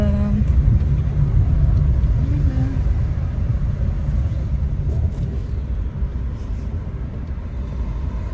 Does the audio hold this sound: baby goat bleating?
no